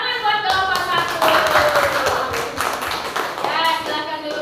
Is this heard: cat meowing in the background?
no